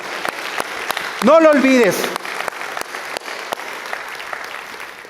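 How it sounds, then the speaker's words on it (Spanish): A church congregation claps at a sermon, with brisk applause of dense rapid claps under a preacher's voice, which rises briefly over the clapping. "Dale un fuerte aplauso a Él."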